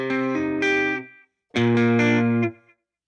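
A beat played through slapback delay and reverb, heard in two loud, sustained bursts of chordal, distorted tone, each tail ringing out briefly before a short silence between them.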